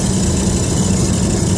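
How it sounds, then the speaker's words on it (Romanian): A motorcycle engine runs steadily at about highway speed, a dense, constant low throb with broadband roar and no change in pitch or level, loud and close with no voices. "Pentru ca să mergi la o viteză de 120 de km la oră pe autostradă cu motocicleta"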